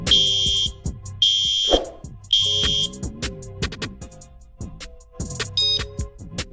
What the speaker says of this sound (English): hold this little bell button right here until you hear the beep sound.